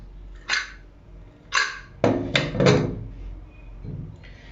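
A cooled pressure cooker that has just finished cooking dal being opened: several short metallic clicks and clunks of the lid being turned and lifted, close and fairly quiet.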